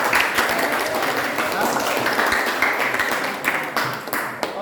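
A classroom of students breaking into applause, a dense burst of many hands clapping together that trails off toward the end.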